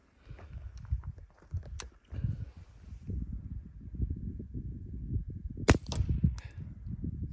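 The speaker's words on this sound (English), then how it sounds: "now through the Mark 422 45. Some of this Aguila Sniper Subsonic 60 grain stuff." Suppressed shots of Aguila Sniper Subsonic 60-grain .22 LR fired from a Ruger Mark IV 22/45 fitted with a Nelson Precision Little Spoon silencer, outdoors: a few sharp, fairly quiet cracks spaced apart, including a quick pair near the end, over rustling background noise.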